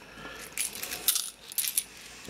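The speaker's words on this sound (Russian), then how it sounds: "Вот так вот отложим вот эти монетки." Soviet-era coins clink and rattle as they are sorted and set aside, a series of small sharp metallic clicks and jingles in several quick bursts, fairly close and moderately loud with no talking.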